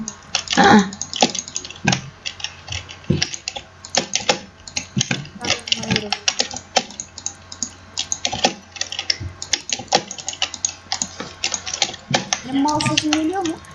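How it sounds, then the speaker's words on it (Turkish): Computer keyboard keys clatter in quick bursts with scattered mouse clicks during a Minecraft Build Battle game session, close and fairly loud, with voices talking intermittently over the clicking. "Benim klavye sesim de mouse sesim de geliyor."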